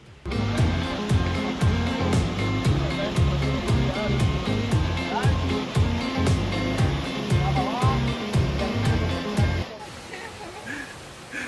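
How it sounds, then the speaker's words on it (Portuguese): The waterfall at Ein Gedi spring gives a close, steady rushing roar of falling water that cuts off abruptly near the end, leaving quieter background noise. "eu quero mostrar um pouquinho melhor da cachoeira para vocês"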